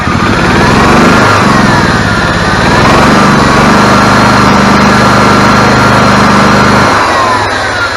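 EZGO golf cart's small engine running steadily after a fresh air filter, oil, plug and fuel filter, a loud, close, buzzing drone that holds even for about seven seconds before easing slightly, with no talk.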